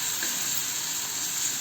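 Ground chili and garlic paste sizzles steadily in hot oil with mustard seeds in a pan, a constant close hiss with no talking.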